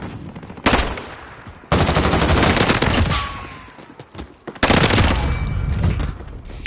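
Automatic gunfire from a Modern Warfare weapon fitted with a Merc foregrip, loud and close in sustained bursts separated by short pauses.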